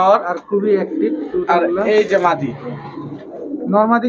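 Male white-eyed giribaz high-flyer pigeon in a shop giving low rolling coos close by, heard beneath and between someone speaking Bengali.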